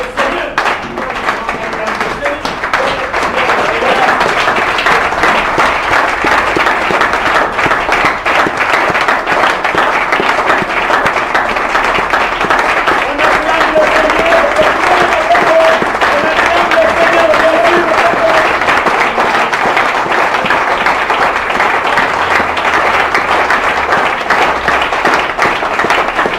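A church congregation applauds to acclaim the Lord, sustained loud clapping from a crowd that swells after a brief start and holds steady throughout, with voices mixed into the ovation.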